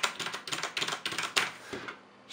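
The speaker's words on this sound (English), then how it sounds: "The disadvantages of a mechanical keyboard usually is that they make quite a lot of noise" Fast clacking keystrokes on a Logitech G710+ mechanical keyboard come in quick bursts, sounding close and crisp, then trail off into near silence.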